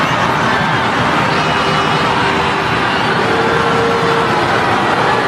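A large stadium crowd at a women's football match swells into a loud, dense continuous roar as Korea Republic attacks, filling the whole clip without a break.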